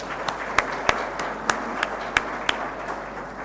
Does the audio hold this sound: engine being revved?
no